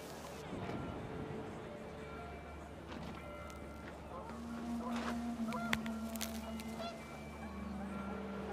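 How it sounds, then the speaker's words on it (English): Panicked geese in the video game What Remains of Edith Finch honk in scattered, faint calls over a windy background, under a voice talking throughout. "The wind picked up and panicked geese appeared and quickly went."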